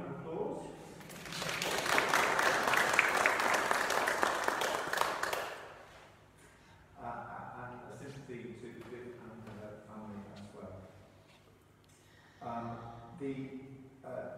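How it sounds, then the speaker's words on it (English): A church congregation at a Sunday morning service claps for about five seconds, a moderately loud burst of applause that fades out, followed by quiet talking in the room. "If you want to give a round of applause."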